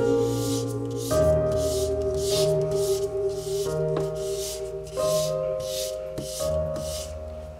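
A rusty knife edge is stroked back and forth on an abrasive. The close, rhythmic rasping comes in regular passes of about half a second each, with steady machine hum underneath.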